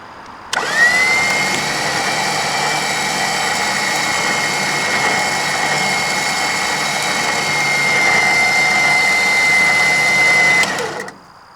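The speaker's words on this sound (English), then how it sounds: "Oh, it's pulling. I guess I shouldn't just lay on the winch, huh?" Rear-mounted Badlands winch dragging logs through the woods, a steady high electric whine running about ten seconds at constant pitch, loud and close, then cutting off abruptly.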